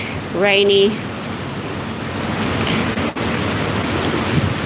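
Heavy rain falls as a constant broadband hiss with a faint low rumble, while a brief voice speaks near the start.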